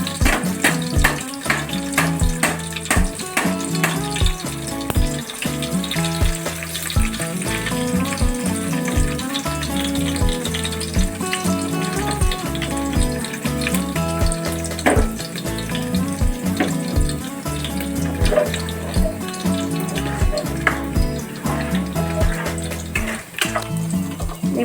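Black pepper and cumin fry in a pan with a steady, continuous crackling sizzle and occasional pops, loud and even throughout.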